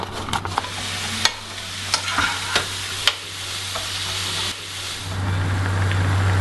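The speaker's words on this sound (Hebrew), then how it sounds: "אני שמה כבר בצל" Onion frying in a pot while being stirred, a steady sizzle broken by scraping spoon strokes, close and loud, with no talk.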